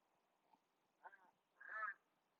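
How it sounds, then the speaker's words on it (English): A crow calls from a tree overhead outdoors, giving two or three short, faint, hoarse calls spaced apart over a quiet background. "we've got a crow talking to us right now"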